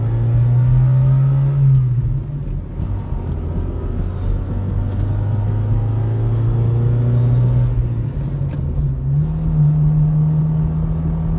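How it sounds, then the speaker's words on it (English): Exhaust of a Honda Civic on a cruise, a steady boomy low drone that holds under gentle acceleration with small shifts in pitch, close and continuous for the whole stretch, no voices. "Listen to that exhaust."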